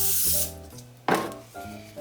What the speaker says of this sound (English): I'm just going to take a little bit of Pam and spray the back of my spatula